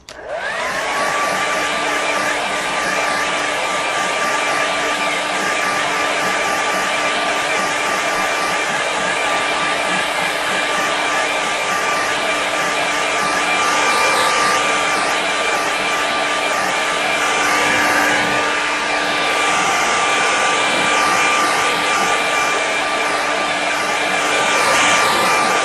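A hair dryer blowing steadily on a watercolour winter landscape painting, a loud continuous whine and rush of air held close for the whole stretch, with no talking.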